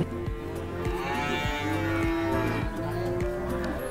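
Cattle at a livestock market moo loudly and repeatedly, long drawn-out calls overlapping from several animals nearby, amid a rhythmic knocking and general market noise.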